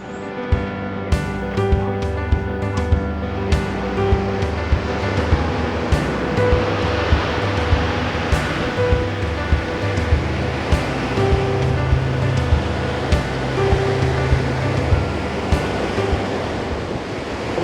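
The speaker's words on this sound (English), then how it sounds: "the sea is far too loud" Loud surf roars steadily along the shore at a seaside car park in Tuscany, with wind buffeting the microphone; no voices are heard.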